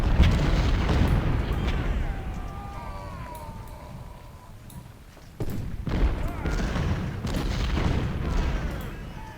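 Artillery bombardment in the Civil War strategy game Ultimate General: Civil War at the Battle of Malvern Hill: a dense, rumbling barrage of deep booms and cannon blasts, with a sharp fresh salvo midway, rolling on continuously.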